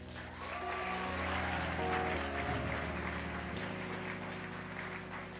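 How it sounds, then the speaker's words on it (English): An audience at a revival rally applauds continuously, a dense even clapping wash that stays steady throughout, moderately distant, with a low hum underneath. "Give them a round of applause."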